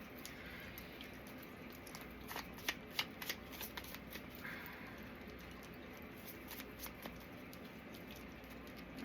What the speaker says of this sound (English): These are really hard to shuffle, I'm not gonna lie.